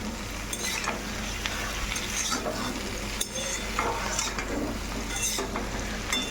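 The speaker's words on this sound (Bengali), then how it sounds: "ভালো করে একটু নাড়াচাড়া করে নেবেন" A spoon stirs fish curry with potato and eggplant in a hot pan, scraping and clinking in irregular strokes over a steady soft sizzle, close and moderately loud with no talk.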